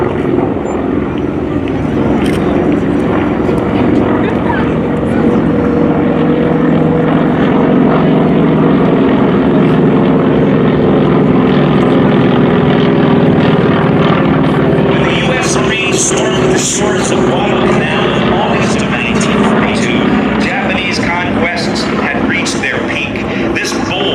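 FM2 Wildcat fighter planes fly over at a WWII Victory Capital flyover, their engines making a loud, steady, roaring drone that fills the whole stretch, with sharper crackling texture toward the end.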